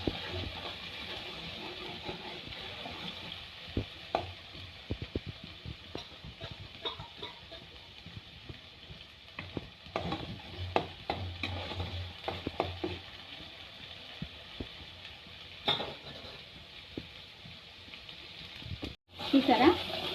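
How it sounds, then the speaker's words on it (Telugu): Onions and green chillies frying in a pan for a prawn curry, a steady close sizzle broken by repeated scraping stirs, with talk heard over part of it. "ఉల్లిపాయ పచ్చిమిరపకాయలు పచ్చి వాసన పోయేంత వరకు మంచిగా"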